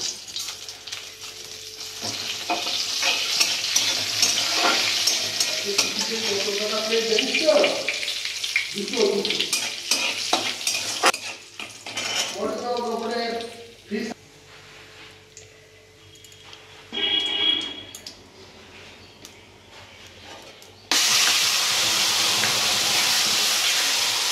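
Meat curry frying in a pan in a home kitchen, a hissing sizzle that rises and drops with stirring, while a person talks over parts of it, ending in a loud steady sizzle.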